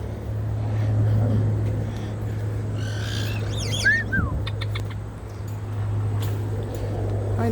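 Birds in an outdoor aviary give a few sharp, rising chirps and calls over a steady low background hum, brief and moderately close.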